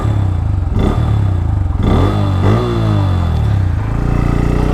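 A Bajaj Pulsar N160 motorcycle hums steadily while riding, its engine drone and road noise continuous and close, with a couple of brief shifts in pitch as it changes speed.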